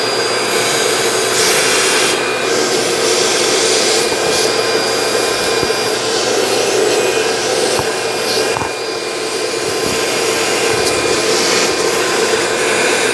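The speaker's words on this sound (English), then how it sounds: "continue on with a vacuum to try to clean out any of the debris" A vacuum cleans debris out of the fuel injector ports of a 4.2L Chevrolet Trailblazer engine, running continuously up close with a loud, steady whooshing roar, the pitch shifting slightly as the nozzle moves, with occasional knocks and no speech.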